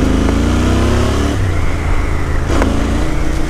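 A Royal Enfield Interceptor 650 accelerates hard in second gear, its engine roaring loud and close with a steady rising drone and a brief shift-like dip partway through, with no talking.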